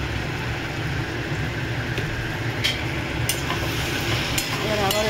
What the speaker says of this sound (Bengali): এবার আবার এটাকে নাড়াবো।